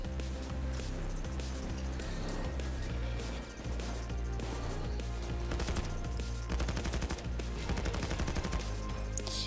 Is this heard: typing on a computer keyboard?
no